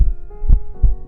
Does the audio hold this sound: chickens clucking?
no